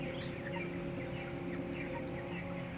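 Many chickens cluck and murmur together inside a crowded factory farm shed, a dense continuous chorus of overlapping calls over a constant mechanical drone from ventilation.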